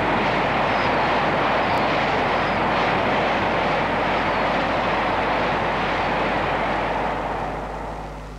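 A 0 series Shinkansen Hikari bullet train arrives at Ogori, a loud, steady broadband roar of rushing train noise that fills the whole stretch and eases off slightly at the end.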